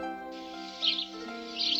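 House sparrow chirping close by, a couple of bright, sharp chirps standing out over a steady tonal backdrop, spaced less than a second apart.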